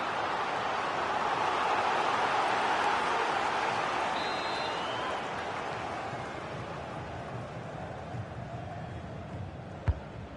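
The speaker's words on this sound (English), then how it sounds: "that's why the crowd's getting behind the team" Stadium crowd noise in FIFA 20 swells into a broad, steady roar of cheering fans, loudest early on and easing slightly, with a brief sharp click near the end.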